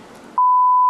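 A loud, steady pure-tone censor beep cuts in sharply after a brief moment of faint background noise and holds to the end.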